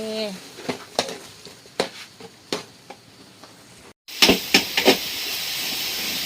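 Green onions are stir-fried in a pan at an outdoor breakfast cook in heavy rain: a spatula scrapes and clicks against the pan, then a louder, denser sizzle and hiss takes over after a brief gap.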